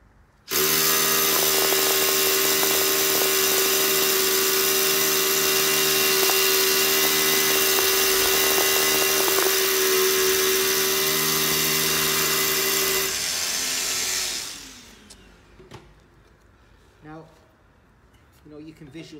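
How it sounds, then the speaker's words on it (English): A Hilti T4 cordless drill with a dust removal attachment bores a large hole, giving a loud, steady motor whine for about fourteen seconds before winding down into quieter handling noises. "let's have a look at the same hole drilled, but with the T4 with the dust removal system on the end."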